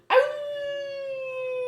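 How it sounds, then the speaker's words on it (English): A dog named Bubbles lets out a single long, steady howl, sustained and fairly loud, close by and alone without talk. "You are supposed to howl, Bubbles."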